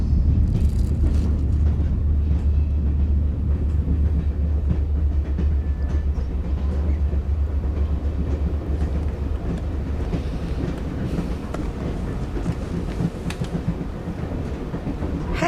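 A train runs steadily along its rails with a continuous, loud low rumble and faint rhythmic clickety-clack throughout, heard from on board a commuter service making its stops.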